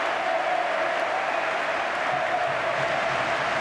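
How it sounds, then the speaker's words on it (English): A huge stadium crowd at a Barcelona El Clasico football match at the Camp Nou roars in a dense, continuous ovation for Andres Iniesta, a steady wash of applause and cheering throughout. "Just listen to the applause and the ovation for this man."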